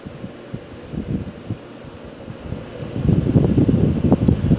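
A Holmes HAWF2041 twin window fan runs with a soft, steady airy whoosh that grows stronger and more fluttery partway through, heard up close with no talking.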